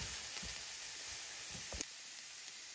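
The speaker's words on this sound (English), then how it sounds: "So we wanna brown these onions before we add our garlic." Onions brown in a hot pan for an Italian sausage penne, giving a soft, steady, close sizzle with a few faint crackles.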